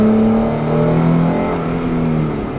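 A Jeep Wrangler engine drones steadily and loud up close, accelerating at full throttle to about 40 mph, a sustained hum with a gently shifting pitch and no talking.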